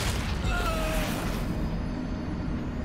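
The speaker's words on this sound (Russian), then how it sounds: "Персонажа с характерным звуком перемалывает" An anomaly vortex in Stalcraft tears a character apart: a loud, rumbling burst of crunching, grinding noise with a whooshing rush, dense and heavy before tapering off into a quieter low roar.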